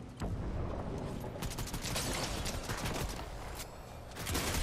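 Rapid bursts of gunfire from an opposing player in the video game Fortnite Reload, dense and continuous, with repeated sharp shots crackling close and loud throughout.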